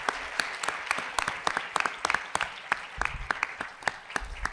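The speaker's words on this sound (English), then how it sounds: "So just please give them all a round of applause" Sparse audience clapping at a Pepperdine law event, distinct individual claps spread across a few seconds in a modest room rather than a dense ovation.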